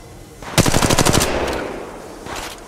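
A burst of rapid automatic gunfire in the Apex Legends video game, about a dozen sharp close shots in quick succession, followed by a short second volley.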